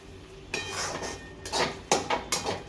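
Carrot halwa with chopped cashews and almonds being mixed in a pan, a metal spoon clinking and scraping against the pan in several sharp knocks and scrapes, close and fairly loud, with no talking.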